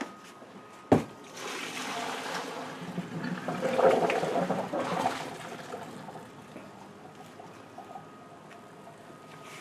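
Cooked spaghetti drained from the pot: a sharp clunk, then a gushing pour of water that swells and fades away, close and fairly loud.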